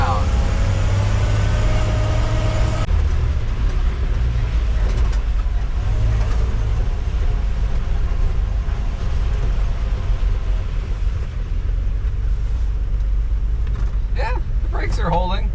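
A 1952 Dodge B3B antique truck drives hard on a farm, its engine a loud, rough, steady drone with road and cab rumble throughout, while a voice speaks over it.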